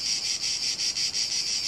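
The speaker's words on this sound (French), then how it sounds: "les cigales se sont remises à chanter" Cicadas sing in warm summer countryside during a bike trip, a loud, steady, high buzzing chorus pulsing in regular beats with nothing else heard.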